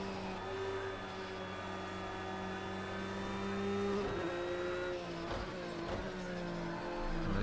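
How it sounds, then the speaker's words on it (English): A race car in the video game Project CARS 2 slides on the Fuji circuit, with a steady engine drone and brief tyre-scrub bursts partway through. "Oh man, this car is sliding."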